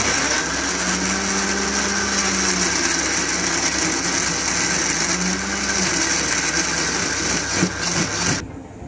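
An electric mixer grinder whirs loudly and steadily as it blends five tomatoes into paste, a continuous high motor drone that cuts off near the end.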